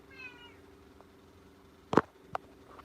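A cat meows a couple of times, short and fairly close, against a quiet background with a faint hum.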